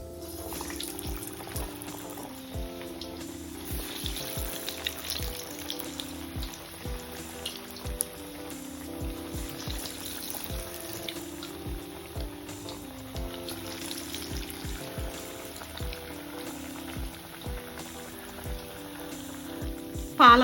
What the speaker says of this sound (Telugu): ఆయిల్ బాగా కాగాక మీడియం ఫ్లేమ్లో పెట్టుకొని వడ వేసేసుకోవాలి